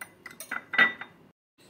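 A potato face pack with aloe vera gel, lemon and cornflour stirred in a small bowl, a few short, close clinks and scrapes of a spoon against the dish, then silence.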